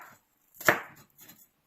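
A knife slicing an onion on a cutting board, giving one crisp close chop followed by a fainter second cut, short and isolated with no talking.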